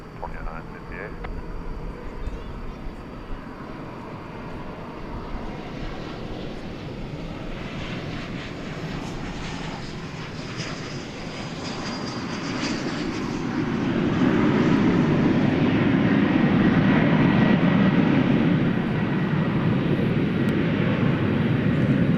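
An American Airlines jet takes off from runway 18 left at DFW Airport at night, its engines roaring steadily and building in loudness toward the end, heard from a distance while a voice talks over it.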